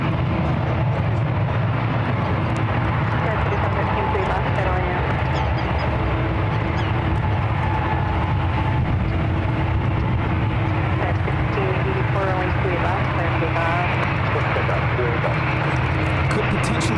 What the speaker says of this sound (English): Air Flight 25 will be taking off to Tokyo Narita.